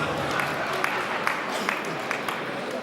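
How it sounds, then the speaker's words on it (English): Applause from the audience at a departmental gathering of circuit managers and subject advisors, a short burst of crowd clapping heard alone for a few seconds. "Can you give him a very big round of applause?"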